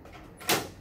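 A door pushed shut indoors, one brief soft thud midway through a quiet room tone, with no talk over it.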